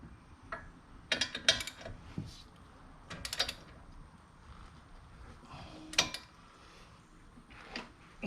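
A ratchet wrench tightening the brake caliper frame on a 2005 Jeep Grand Cherokee, heard as several short bursts of clicking spread across the clip, with quieter mechanical clatter between them.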